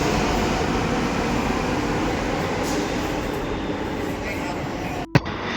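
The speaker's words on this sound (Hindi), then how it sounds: "ये सफ़र मेट्रो का है जो कि बहुत हसीन है दिल्ली वालों के लिए।" Delhi metro train carriage in motion, a steady loud rumble and rushing hum filling the whole stretch with a brief clunk near the end, a crowded interior ride with no clear talk.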